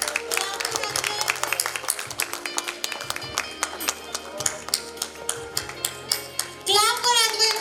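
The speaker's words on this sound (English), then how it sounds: "Clap for Adway." Applause breaks out for a prize winner at a school annual function, scattered hand claps over music, with a louder burst near the end.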